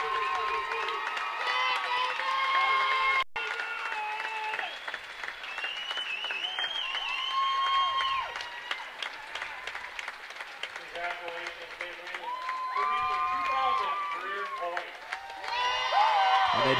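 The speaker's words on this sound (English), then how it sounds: "the crowd goes crazy" A high school basketball crowd roars and applauds as a player reaches 2,000 career points, producing sustained loud cheering, shouting voices and clapping that surge and ebb throughout.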